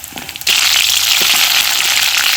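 Paneer frying in hot oil bursts into a loud, sudden crackling sizzle that holds steady after a brief quieter moment of faint clatter.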